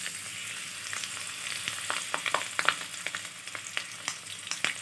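Green chillies sizzle and crackle in hot oil for chilli paneer, a steady frying hiss punctuated by sharp pops and spits, close up and without talking.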